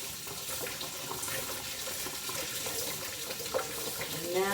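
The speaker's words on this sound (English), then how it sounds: "I'm just going to use cold water, and I'm just going to give it a quick rinse." Cold tap water runs steadily into a colander holding chopped salsa ingredients at a kitchen sink, a close, continuous splashing rush with faint rattling as the contents shift.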